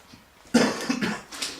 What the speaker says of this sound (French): j'ai un peu la crève, je tousse